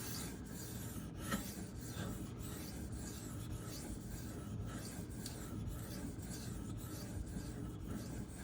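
Knife blade pushed and pulled across a Shapton Pro 2000 grit whetstone, a steady rhythmic rasping scrape repeating about once a second, close and moderately quiet with no talk.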